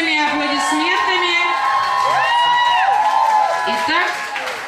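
A school talent-show audience cheers and whoops at a Mister and Miss contest, loud and sustained for several seconds, with children's high shouts rising above the crowd.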